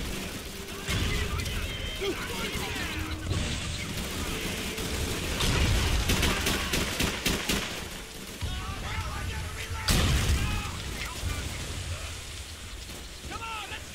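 Grenade blasts and gunfire ring out in a Call of Duty 3 battle scene, with a sharp burst near the ten-second mark standing out over a continuous din of combat noise.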